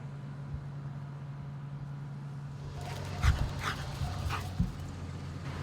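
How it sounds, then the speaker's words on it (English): A dog at an animal shelter whimpers and yips a few times in short bursts partway through, fairly near, over a steady low hum of background noise. "What's the dog doing here?"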